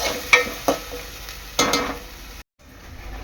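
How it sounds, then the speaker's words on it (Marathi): Ground masala paste frying in oil for a mixed vegetable bhaji, heard as a steady close sizzle broken by a few sharp stirring scrapes, then a brief silent gap before the frying resumes. "एक ते दोन मिनटं मी तेलात वाटून परतून घेणार आहे"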